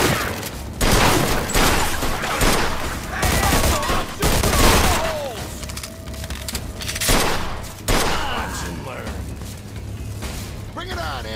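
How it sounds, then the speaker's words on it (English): Gunfire in the video game Mafia 2: dense, sustained bursts of shots and booms fill the whole stretch, loud and continuous, with shouting voices mixed in over the barrage. "Shoot, Vito!"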